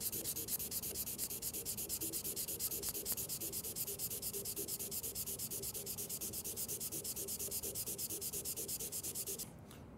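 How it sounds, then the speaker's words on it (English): Steady, continuous hand sanding of a turned wooden bottle opener spinning on a lathe, a dense abrasive hiss over the motor's hum that drops off as the lathe stops at the end. "make sure and sand with the grain"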